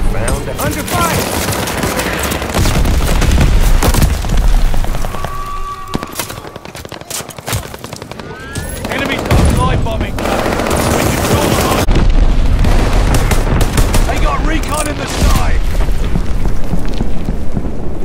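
Sustained gunfire and explosions in Call of Duty Vanguard multiplayer on a V2 rocket map, dense bursts of shots with booms, loud and continuous, with game voice callouts over the battle.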